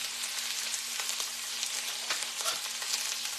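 Onions sizzling in hot oil in a pan while cooking hamburger steak, a steady bright crackle with small pops and occasional stirring scrapes, close and without talk.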